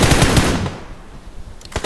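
Automatic weapon fire in the BGMI battle royale mobile game: loud, rapid bursts crackling through the opening second, then a quieter lull before a short sharp volley near the end.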